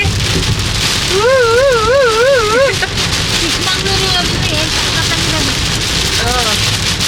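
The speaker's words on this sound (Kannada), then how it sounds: "ಫುಲ್ ಮಳೆ" Steady, dense rain pours down throughout, a constant loud hiss, with a voice briefly speaking over it.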